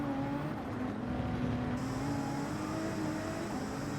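Toyota race car engine in Gran Turismo 7 under full throttle, a steady droning roar whose pitch holds and then rises slightly, continuous and moderately loud.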